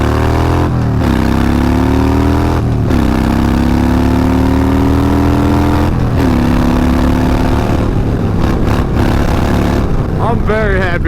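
A salvage Harley-Davidson Dyna motorcycle engine runs loud and close, a steady throbbing idle that rises and falls with a few revs, with no talk over it.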